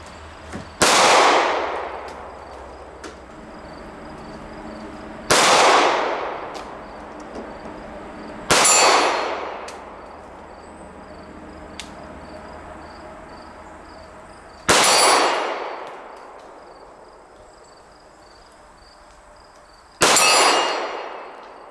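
Five Ruger LCP II pistol shots ring out at irregular intervals, each a sharp crack followed by a bright metallic clang from a steel plate 25 yards downrange, decaying into quiet between shots.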